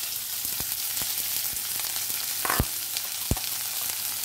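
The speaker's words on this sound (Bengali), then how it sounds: "যে কুচিয়ে রেখেছিলাম পেঁয়াজগুলো সেগুলো আমি দিয়ে দিলাম, সেটাকে একটু ভাজতে হবে।" Chopped onions sizzle steadily in hot mustard oil in a pan, a constant close frying hiss broken by a few sharp pops and spatula scrapes.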